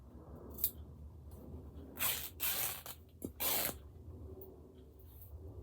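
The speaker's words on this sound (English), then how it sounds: "And I will just snip that down there." Scissors snip thread during a slow stitching textile project, several short crisp cuts with soft hissy rustles between, close and quiet in a calm room.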